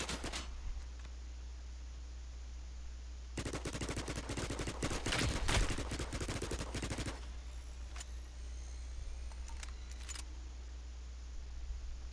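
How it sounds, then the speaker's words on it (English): Gunfire in a squad-based last-man-standing shooter video game, a dense burst of rapid shots lasting several seconds, then a few scattered sharp cracks, with no talking. "Who's shooting at us?"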